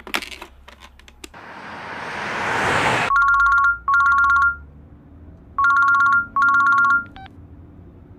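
A mobile phone ringtone in a film scene sounds in four loud, bright bursts of electronic chiming, each under a second long with short gaps between them, after a rising whoosh of noise.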